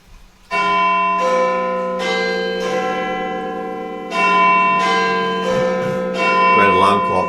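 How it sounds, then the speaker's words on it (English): Church bells peal loudly in overlapping strokes, a rich ringing that swells again partway through and carries on without pause, with faint voices briefly audible near the end. "The bells!"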